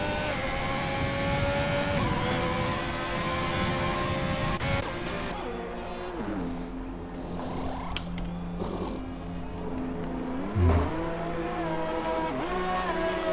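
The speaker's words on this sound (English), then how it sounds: "Alpmut K keeps this distance from Matt, he can use DRS on the straight because Matt is far from the car in front of" Formula 1 cars from the F1 2020 racing game at the French round, engines revving and shifting through gears with rising and falling pitch, a continuous loud race-car drone with passing cars and no voices.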